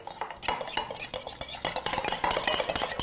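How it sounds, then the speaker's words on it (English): A vegan lentil meatloaf mixture with balsamic vinegar and salt being stirred in a bowl, giving a steady run of close, busy scraping and clinking of a utensil against the dish with no talking. "Now we just need to mix this in."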